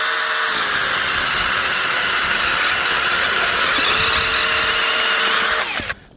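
A powerful electric saw, the 200 model, cuts through firewood with a loud, steady whine that runs without a break for nearly six seconds, then stops abruptly.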